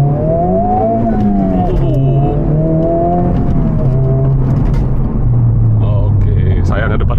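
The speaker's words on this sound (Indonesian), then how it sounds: "suara raungan mesin bohongannya itu lewat speaker ditransfer ke dalam" A car's artificial engine roar, played through the cabin speakers, drones and revs in traffic, its pitch rising and falling continuously, with a person talking over the steady motor noise.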